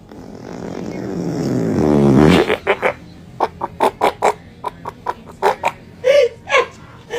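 A long, loud, rising flatulent blast that breaks into a stuttering series of shorter bursts, up close with no speech over it.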